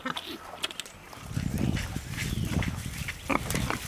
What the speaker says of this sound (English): Wanna see the pigs? We haven't seen the pigs in a while.